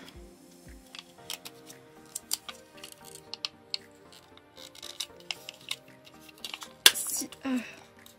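Nail polish strip packaging is opened with crinkly plastic and paper rustles, scattered clicks and small tearing sounds, ending in a sharp snap followed by a brief rustle, all close up.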